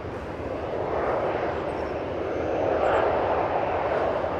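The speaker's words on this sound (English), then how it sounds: "UPS 747 crossing runway 33." A UPS Boeing 747 crossing a runway at Ted Stevens Anchorage International airport, a steady broad jet-engine roar that swells slightly, heard from a moderate distance with no talking.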